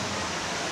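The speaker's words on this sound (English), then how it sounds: "they actually have water here. Really, waterfalls and everything." Water rushes from an indoor waterfall in the Bellagio Conservatory in Las Vegas as a steady, dense wash of splashing sound, continuous and fairly close throughout the short stretch.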